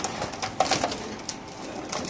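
Pigeons cooing at a pigeon farm with caged birds for sale, several soft coos and faint wing flutters mixed with a busy background murmur.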